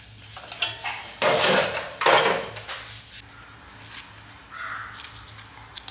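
Homemade banana fritters (pazham pori) are lifted out of hot frying oil with a metal scoop, giving clinks and scrapes against the pan, a louder clatter in the middle, then quieter handling. No one speaks.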